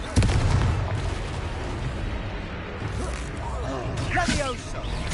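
A Confringo fire spell explodes in Hogwarts Legacy with a sharp, loud blast at the start, followed by rumbling battle noise and crackling effects. A voice speaks over it.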